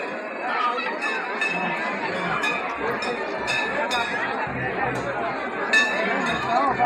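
A dense crowd packs the Ram temple at Khetgarh on Kartik Purnima, with continuous overlapping chatter, many voices blending into a steady babble, and occasional clinks of metal or glass.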